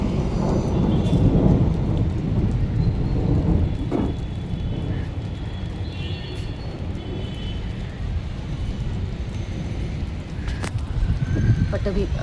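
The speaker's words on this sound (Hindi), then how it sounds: "ये देखो पड़नी शुरू हो चुकी है" Rain begins to fall with occasional thunder outdoors, a steady wash of drops and low rumble persisting throughout, while someone talks over it.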